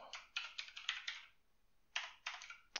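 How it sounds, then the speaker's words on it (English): Rapid keystrokes clatter on a computer keyboard with a sticking key, two bursts of close, crisp typing separated by a brief pause, with no talk. "My keyboard's sticking."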